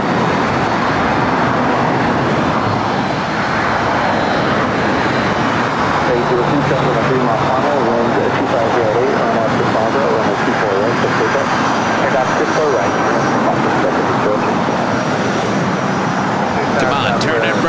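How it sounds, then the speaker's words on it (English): A Boeing 757-300 jet taking off at LAX, a loud, continuous engine roar and rumble that fills the whole stretch, with a person talking over it. "who is ready for the loud sounds from the 757-300 again heading to Detroit Metro Airport?"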